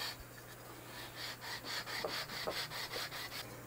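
Abrasive strokes of 320-grit paper on a leveling beam rub across the frets of a custom Kyper Alpha guitar, a steady series of rhythmic back-and-forth scrapes, close and moderately quiet, with no talking.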